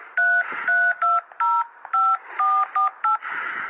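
A telephone keypad sends about ten DTMF dialing tones in a quick, evenly spaced sequence, each a clean two-pitch beep, close and loud.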